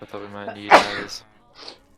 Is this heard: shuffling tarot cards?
no